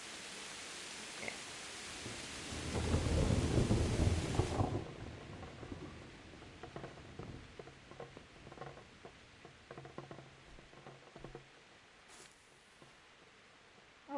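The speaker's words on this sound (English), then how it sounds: "Not because it's raining?" Rain and thunder from the medieval video game Kingdom Come: Deliverance, a deep thunder rumble swelling early over steady rain hiss, then softer patter and scattered drips continuing after it fades.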